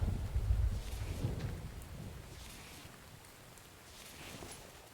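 Rain falling in the survival video game The Infected, a soft continuous patter with a low rumble like distant thunder at the start that fades to a quieter wash.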